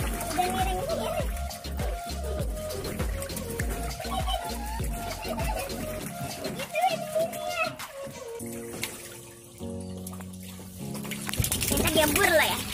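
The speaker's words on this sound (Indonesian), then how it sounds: "Ini air yang lama sekarang kita kuras" Old, murky water draining out of a catfish pond, a continuous splashing flow with rhythmic pulses, close by, while adults and children talk over it.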